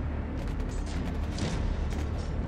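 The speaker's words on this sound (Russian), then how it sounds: "Что это такое? А, понял. Снаряд упавший." In the video game Caligo, a fallen shell explodes as a dense, continuous roar of rumble and crackling blast noise filling the whole moment, loud and unbroken, with no voices.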